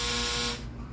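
A clothes dryer's end-of-cycle buzzer sounds loud and steady with a harsh electronic drone for about half a second, then cuts off, leaving quieter room noise.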